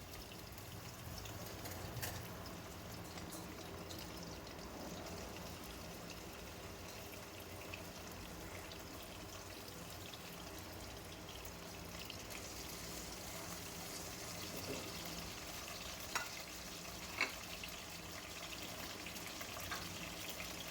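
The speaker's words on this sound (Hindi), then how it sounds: "हम ये करेंगे कि लहसुन और ये जो गोल वाली मिर्चें हैं इसको हम तेल में डाल देंगे" A faint, steady sizzle of garlic and round dried chillies frying in oil for aloo palak, with a few small pops and crackles and no talking.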